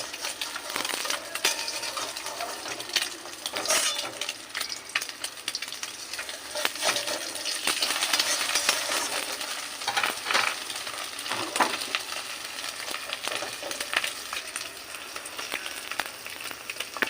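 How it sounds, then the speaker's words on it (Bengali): Eggs fry in a pan with just salt, giving a continuous crackling sizzle dotted with sharp pops and spatters. Occasional stirring and utensil clicks sound close by, with no voices. "এবার আমি ডিমটা ভেজে নেব"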